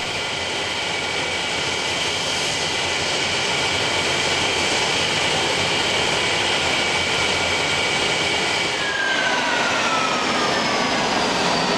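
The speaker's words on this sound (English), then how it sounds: "Captain Bannister keeps Concorde's 4 Rolls-Royce Olympus engines running" A loud, continuous roar from Concorde's four Rolls-Royce Olympus jet engines fills the whole stretch, steady and close, with a rising whine appearing near the end.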